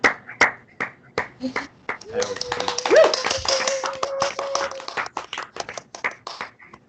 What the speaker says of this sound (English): can we all just like unmute and clap for that?